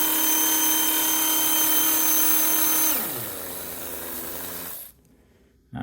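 A small electric motor for an RC chassis spins on a dyno with a steady high whine, then its pitch drops as it slows and it cuts off near the end.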